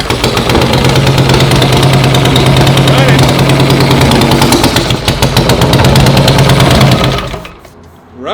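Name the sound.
rebuilt totaled Harley motorcycle engine starting and running roughly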